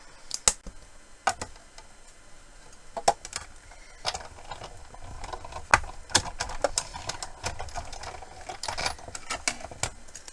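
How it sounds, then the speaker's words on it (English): A die cut machine being cranked with a sentiment die and cardstock fed through, a series of irregular clicks, ticks and clunks close by with a low mechanical rumble, no talk. "And just run that through my die cut machine."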